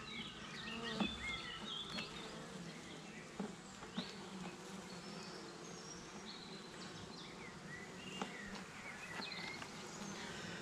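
Honeybees buzz steadily around an opened beehive during an inspection of frames, a dense close hum with individual bees zipping by, no talking.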